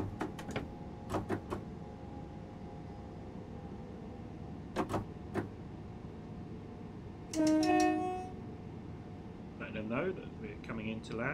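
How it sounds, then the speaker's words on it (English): A Class 377 electric train runs on the East Coastway Lewes shuttle in Train Sim World 2, with a steady low rumble, sharp clicks over rail joints, and a brief horn-like tone midway, while a person talks over it. "Probably hear the train better now."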